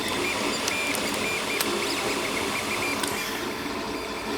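Close by, an Anycubic Mega Zero 2.0 3D printer runs with continuous stepper motor whirring and shifting whines, with occasional sharp clicks breaking the steady mechanical texture.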